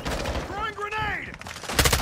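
Gunfire in Modern Warfare 2 during close-quarters fighting with an M16 build, sharp shots crackling in short bursts around a clipped radio-style voice, with a louder cluster of shots near the end.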